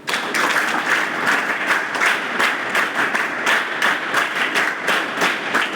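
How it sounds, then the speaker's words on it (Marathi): A crowd at an IAS career event in Gadchiroli claps steadily and loudly in a continuous burst, a dense wash of many hands with small surges, and no voices come through over it. "माझ्यासाठी तर वाजवाच लागतात तुम्हाला"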